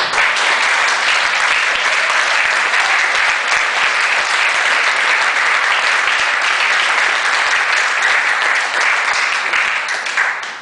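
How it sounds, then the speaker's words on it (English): A large audience at the Sierra Madre State of the City gathering gives city staff a long, even round of applause, loud and sustained, with no break in the clapping. "let's give the staff here a great round of applause for all of you"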